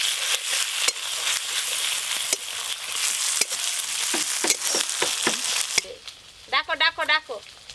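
Ground ginger, cumin and dried chilli paste with turmeric fry with onion for a tilapia curry, a close hissing sizzle with spatula scrapes and knocks, then a short spoken voice near the end.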